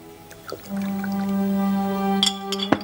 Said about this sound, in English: He moves across to the chest by the door and pours himself a glass of sherry.